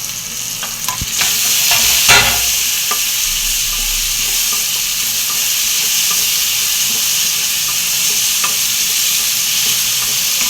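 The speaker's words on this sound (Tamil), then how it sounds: "இப்போ தக்காளி போட்டுக்கோங்களப்பா. நல்லா வதங்கட்டும்." Steady loud sizzling and hissing of chopped tomatoes sautéing in a hot pan, with a few stirring clatters near the start.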